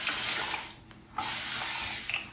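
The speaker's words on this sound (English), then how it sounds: "So I just spray it with some water." Two hissing bursts from a spray bottle misting water on hair, close and fairly loud, with a short pause between them.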